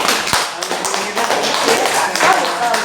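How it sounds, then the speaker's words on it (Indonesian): An audience at a KCF year-end farewell-and-welcome community gathering claps its hands, a continuous patter of fairly close claps with sharper individual hits standing out throughout. "Boleh tepuk tangan dulu kita buat"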